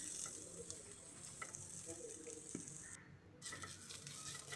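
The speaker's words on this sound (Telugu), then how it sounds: "సన్నగా కట్ చేసిన ఉల్లిపాయ ముక్కలు కూడా వేసి మంచి రంగు వచ్చే విధంగా ఫ్రై" Thinly sliced onions fry in a kadai toward a golden colour, giving a constant moderate sizzle with light stirring sounds and a short dip near the end, no talk.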